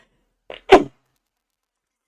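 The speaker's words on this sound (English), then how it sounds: "Sorry about the sneezes." A single short sneeze, close and sharp, preceded by a brief intake of breath, then silence.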